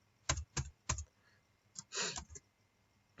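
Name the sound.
typing print on a computer keyboard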